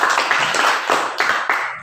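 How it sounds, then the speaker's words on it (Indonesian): Classroom applause for a student: a small group claps together in the room, with several uneven bursts of close, crisp hand claps over about two seconds, and no talking. "Beri aplaus dulu untuk adik."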